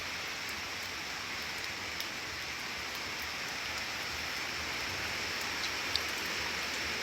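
Steady rain from Hurricane Melissa pours down in Jamaica, a dense continuous hiss with scattered heavier drops, holding an even level throughout with no voices.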